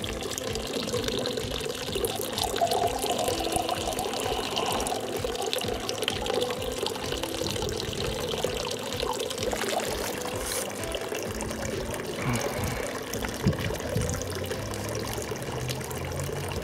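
A small stream of water pours steadily into a garden pond, a continuous splashing trickle running loud and close for the whole stretch with no talk.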